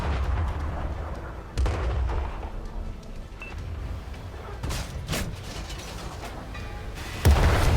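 Auto-loading artillery fires in a tank video game as heavy booming shots in a loud, continuous battle soundscape, with several sharp blasts spaced out and a final hard boom near the end.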